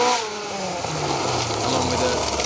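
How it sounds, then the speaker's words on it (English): Ford Escort rally car at a Woodpecker Rally stage, its exhaust knocked off, blaring loud and raw with harmonics rising and falling as it revs and shifts, heard continuously up close without any speech. "Escort sounds awfully loud today as he knocked his exhaust off"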